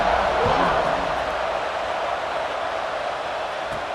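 Stadium crowd in a college football video game with Texas A&M, a dense, loud roar of cheering that holds steady and close throughout.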